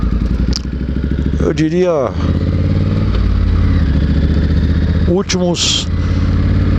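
A motorcycle engine drones steadily while riding, running continuously beneath a voice as he talks throughout.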